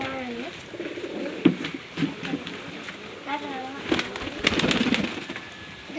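Domestic pigeons on a family pigeon farm coo in low, repeated murmurs through the background, with a few wing flaps and clatters, while people talk nearby over most of the stretch.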